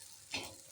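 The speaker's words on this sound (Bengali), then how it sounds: "সেদ্ধ ডিমটাকে ভেজে নিচ্ছি" A boiled egg fries in a pan, giving a short, faint sizzling burst with a soft stirring scrape.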